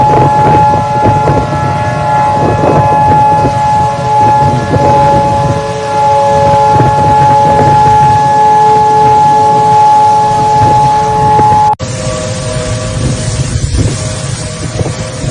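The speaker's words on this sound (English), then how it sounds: "I'm sure when they hear the siren" A loud, sustained tornado warning siren wails steadily in Sulphur, Oklahoma, with wind buffeting the microphone and a sudden drop in volume near the end.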